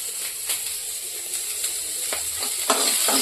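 Mushrooms fry lightly in hot oil with a steady close sizzle, broken by occasional scrapes and taps of a spatula stirring them in the pan, no voices.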